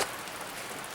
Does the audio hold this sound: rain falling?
yes